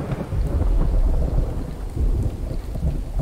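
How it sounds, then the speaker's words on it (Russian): Heavy rain pours steadily in the night setting of The Infected, a survival video game, with deep thunder rumbling low and continuous throughout, loud and close, no voices over it. "Ага, и дождик."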